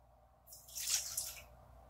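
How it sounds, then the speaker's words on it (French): Milk poured into a Thermomix bowl while making oat and maple syrup bread, a short liquid splash that swells and fades over about a second against quiet surroundings. "Ensuite, on va aller ajouter 150 g de lait"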